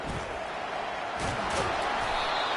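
A college football stadium crowd at a South Carolina Gamecocks game roars loudly and steadily throughout, a dense wash of cheering with a swell near the middle and no break in the noise.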